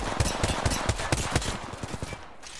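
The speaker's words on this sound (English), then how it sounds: "can you stop shooting at us?" Gunfire in Apex Legends, heard as a rapid burst of automatic shots, about a dozen evenly spaced cracks in under two seconds. Close and punchy, tailing off at the end, with no speech.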